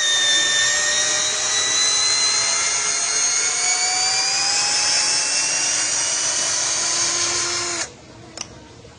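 A Hilda brushed 16V cordless drill with a 10 mm steel bit bores through 3 mm steel angle iron, giving a close, loud, steady high whine for about eight seconds before it stops abruptly.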